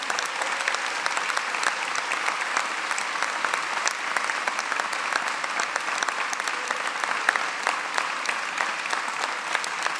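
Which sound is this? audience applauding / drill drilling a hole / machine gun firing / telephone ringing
audience applauding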